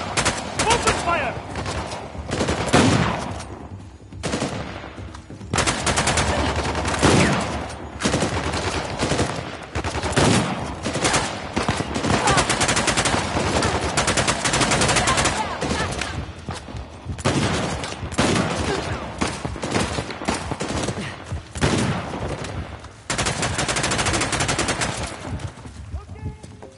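Sustained gunfire in a firefight, with dense bursts of shots and rapid automatic fire rolling almost without pause for nearly half a minute, loud and close, with shouted voices mixed in.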